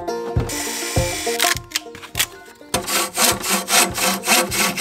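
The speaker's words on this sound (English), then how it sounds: "Maybe cutting in another improvised way with a handsaw" Wood being cut by hand with a handsaw while building a wooden structure for a pizza oven, loud close rasping strokes in an uneven rhythm, then quicker regular back-and-forth strokes toward the end.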